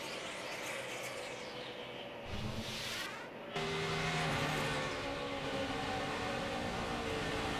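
NASCAR Sprint Cup stock cars racing at Pocono Raceway in the 2009 Pennsylvania 500, a continuous loud engine roar that swells sharply partway through as cars pass close by, with no talking.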